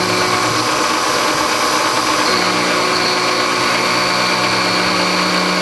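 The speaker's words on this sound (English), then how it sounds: "I'll just run the spot drill around on it." A spot drill running on a metal cylinder head, a steady high mechanical whine and hum, continuous throughout, changing pitch slightly partway through.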